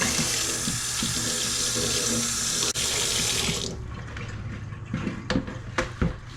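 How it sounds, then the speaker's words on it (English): A kitchen tap runs water steadily into a sink to rinse the roots of Aerogarden herb and vegetable plants, a constant close splashing rush that then thins into scattered drips and splashes. "I'm just going to turn on the tap quickly to give the roots underneath a quick rinse"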